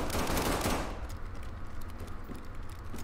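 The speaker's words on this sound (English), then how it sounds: "I tried to shoot him in the head, but I couldn't." Rapid automatic gunfire rattles loudly in the video game SCP 5K, then drops to quieter, scattered shots that continue in the background.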